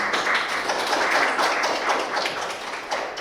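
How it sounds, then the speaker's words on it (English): Audience applause for the panelists at a Capitol Hill policy briefing, a steady dense wash of many hands clapping that fills the room evenly and holds at a constant level throughout. "Let's give a round of applause for our panelists."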